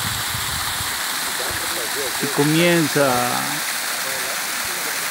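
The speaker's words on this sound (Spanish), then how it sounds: "Aquí llegan pequeños cursos de agua" A small stream at the headwaters of the Uruguay River, where the Pelotas River begins, gives off a constant rushing wash of water beneath someone speaking Spanish.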